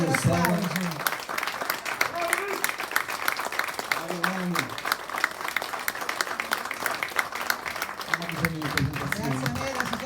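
Steady, dense audience applause from a hall crowd fills the whole stretch, while a voice speaks intermittently over the clapping.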